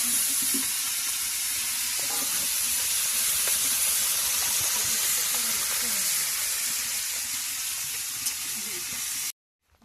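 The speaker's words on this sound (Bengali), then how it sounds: "তেল গরম হয়ে গেছে, এখন ভাজা দিই" Fish frying in hot oil in a home kitchen, a steady loud sizzle and hiss running almost unbroken, with faint utensil knocks, cutting off abruptly near the end.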